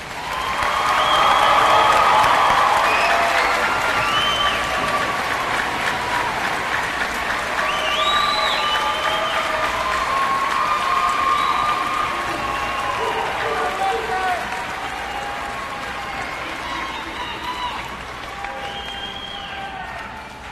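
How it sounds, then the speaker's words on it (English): Graduation audience applauding the Corner Class of 2026 seniors, a sustained loud wash of clapping that swells early and slowly tapers over twenty seconds, with scattered cheers and murmuring voices mixed in. "Please give these seniors one more round of applause."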